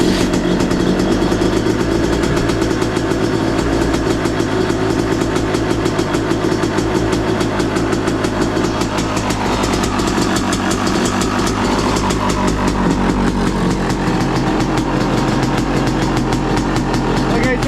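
A 2023 Yamaha YZ250 dirt bike engine idles on choke in freezing weather, loud and steady up close, a continuous rapid putter with a slightly uneven knock, and a voice speaks over it.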